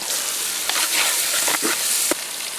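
Chili powder and coriander powder frying in a pan while being stirred, a steady close hiss of sizzling oil with a few scraping strokes and one sharper knock of the spoon.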